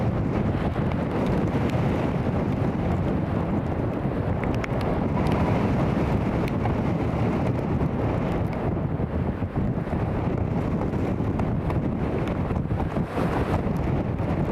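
Strong crosswind buffets a microphone at Newcastle International Airport, a steady loud roar of gusting wind noise with rumbling low buffeting throughout and no speech.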